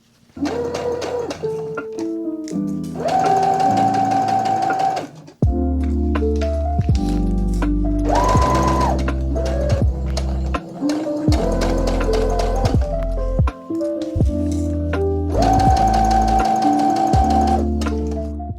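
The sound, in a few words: sewing machine stitching neckline of summer top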